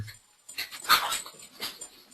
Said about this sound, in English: Sorry, my dog is racing around like a greyhound.